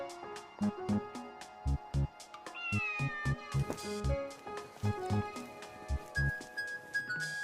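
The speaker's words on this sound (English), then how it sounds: "Now we have a cat in a blanket." In the point-and-click game The Mystery of the Druids, Captain Deneuve's stubborn, flea-ridden cat meows repeatedly from inside a blanket, with drawn-out, wavering cries over a steady run of rhythmic thumps.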